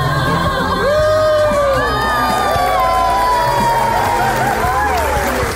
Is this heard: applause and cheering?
yes